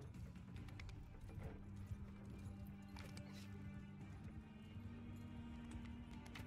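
Horses gallop in a Mount and Blade 2 Bannerlord battle, with faint, rapid hoofbeats and clatter under a low rumbling battle din, steady and fairly quiet throughout.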